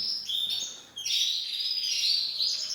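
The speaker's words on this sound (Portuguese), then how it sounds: "das aves, no nosso caso dos canários." Captive canaries chirp in bright, high, rapid trills, several birds overlapping in a continuous twittering chorus close by, with a short dip before the song swells again.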